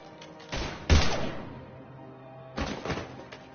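Gunfire in a Mass Effect 3 firefight: two short, sharp bursts, the first harder and punchier, the second a little softer, each dying away in echoing decay over a quiet background.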